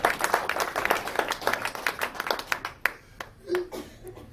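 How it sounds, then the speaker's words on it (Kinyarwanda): A church congregation claps together in a fast, dense burst of overlapping handclaps that thins into a few scattered claps, with a brief murmur of voices near the end. "Imana tuyikomera amashyi ari ibito."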